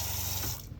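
Water gushing from a pump-fed tap in a camper van, a short steady rush that cuts off quickly, fairly faint and alone.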